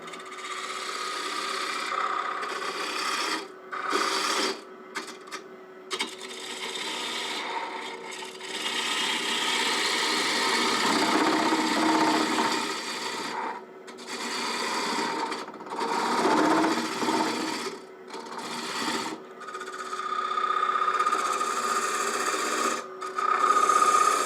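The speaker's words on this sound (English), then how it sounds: "I'm going to come in there with a spindle detail gouge. Get the speed up a little bit." Spindle detail gouge cutting wood on a lathe turning a bird feeder part, a steady close scraping hiss that swells and fades with each pass, broken by brief pauses between cuts.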